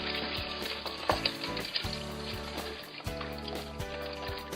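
Soaked masoor dal goes into a hot pot, giving a steady close sizzle and bubbling fry with a low hum beneath and a few splashy bursts as the lentils hit the oil.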